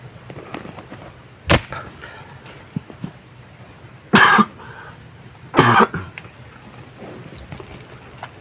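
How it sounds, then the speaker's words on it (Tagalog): Three separate coughs ring out against a quiet background, the first short and sharp, the last two heavier and longer, spaced a second or so apart. "Grabe yung ubo natin"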